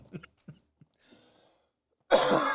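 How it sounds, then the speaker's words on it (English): A few short coughs and throat sounds in a quiet room, followed by a sudden louder burst of coughing at the end. "a laugh sends you into a coughing fit"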